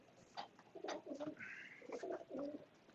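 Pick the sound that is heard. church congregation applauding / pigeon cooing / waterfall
pigeon cooing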